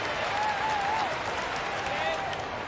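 Crowd applause from a basketball video game in an e-sports stream, a steady broadband wash of clapping and cheering that runs the whole time under a faint tonal whistle-like sound.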